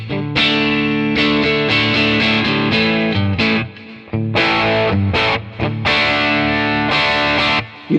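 An electric guitar through a Quad Cortex crunch amp capture, with a crunchy, overdriven tone playing loud rhythmic chords, with a few brief drops between strummed phrases.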